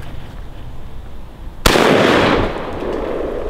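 A single blast from a compact single-shot break-barrel shotgun, sharp and loud after a quiet lead-in, followed by a long ringing decay outdoors.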